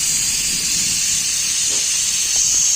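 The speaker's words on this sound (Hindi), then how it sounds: "अभी हम लोग गैस का उड़ा रहे हैं" Refrigerant gas hisses steadily out of a Fuji air conditioner compressor line, a continuous loud rush of high broadband hiss lasting the whole stretch with no talking.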